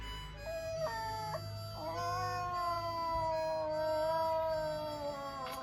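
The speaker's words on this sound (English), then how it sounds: "they sit around and play harmonica for dogs" A dog howls along to a harmonica, long sustained wavering howls rising and sliding over steady harmonica tones, fairly close and loud with no talking.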